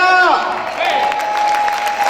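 Congregation clapping in church during a worship service, a steady dense wash of applause running the full clip, with a voice speaking over it.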